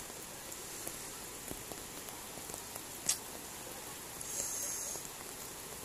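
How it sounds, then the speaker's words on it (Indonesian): Heavy rain falls over flooded village rice fields and fish ponds during the dry season, a steady hissing patter with scattered drip ticks and a few brief louder splashes, fairly faint and continuous. "masih ada hujan gede banget kayak gini"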